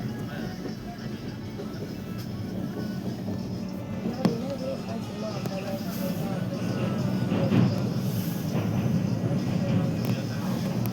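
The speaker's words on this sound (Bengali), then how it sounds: "এটা হচ্ছে metro train, Kolkata metro train." A Kolkata Metro train runs alongside a moving train, heard as a steady low rumble and rattle of rail travel that builds slightly toward the end, with voices talking over it.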